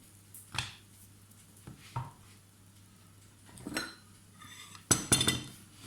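Baked etli ekmek, Konya-style meat pide, being taken out of the oven, with scattered close clanks and clinks of metal trays and utensils separated by quiet gaps, and a louder clatter near the end.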